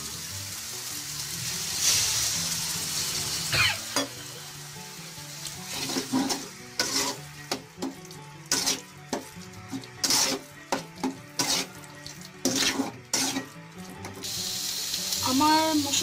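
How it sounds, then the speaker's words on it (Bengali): Crab masala for malai curry cooks down in a pan with a little coconut milk, a close hiss and sizzle broken by a run of rhythmic scraping strokes of a spatula, with no clear talk. "আমি এখানে অল্প করে নারকেলের দুধ দিয়ে এটাকে কষাবো।"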